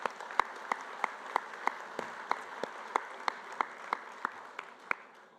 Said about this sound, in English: round of applause for Lexus